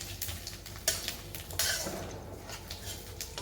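Prepared spice paste goes into a pan of cumin for prawn malai curry. A spoon clinks and scrapes against the pan in light, irregular taps, close and faint, with no talk.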